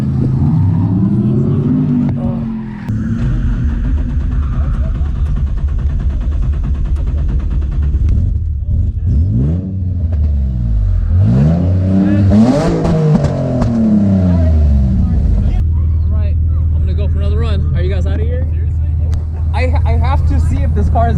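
A drift car's engine revs repeatedly, loud and close, swinging up and down in pitch through long sustained pulls with short gaps, while people talk nearby at times.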